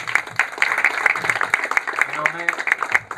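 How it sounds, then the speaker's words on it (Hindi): A seminar audience claps together, a dense run of overlapping handclaps with a voice speaking over the applause. "जोरदार तालियां होनी चाहिए।"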